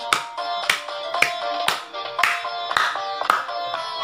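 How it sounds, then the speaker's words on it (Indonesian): Sharp hand claps fall about every half second in a steady beat over dangdut-style music in a Kentrung DJ track, loud and regular, with pitched tones ringing between each clap. "Kamu tepuk tangan lagi."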